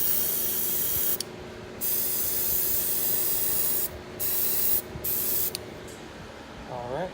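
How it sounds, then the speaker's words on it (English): A gloss second coat is spray painted on, heard as a close, loud hiss in several bursts separated by short pauses. "You can see as we add that second coat, it really does become a gloss."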